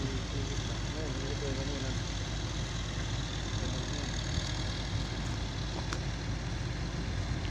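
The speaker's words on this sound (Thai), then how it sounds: "รถไถก็มาอีกคันแล้วนะครับเนี่ยรถไถมาช่วยกันครับ" A tractor engine runs steadily alongside other machinery while logs are pushed, a continuous low mechanical drone throughout with a voice talking over it.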